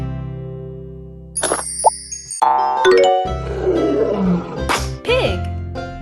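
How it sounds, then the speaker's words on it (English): A lion roars amid bright chimes and playful sound effects, with a voice speaking over the mix. "Lion."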